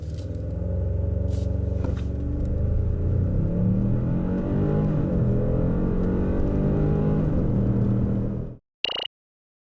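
A Genesis G80 2.5 turbo AWD launches hard from a standstill, its loud engine droning and rising steadily through the gears for about eight seconds before cutting off abruptly, with no voices.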